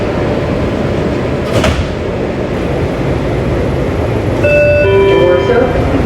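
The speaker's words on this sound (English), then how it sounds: "Step back. Doors open." A Washington Metro Red Line railcar sits in a station with a loud, steady train rumble. A sliding door thumps partway through, then an electronic door chime of stepped tones sounds near the end.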